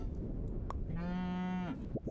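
A cartoon cow in the video game Super Auto Pets gives a single clear, drawn-out moo in the middle, with brief soft game clicks and pops around it and no talking.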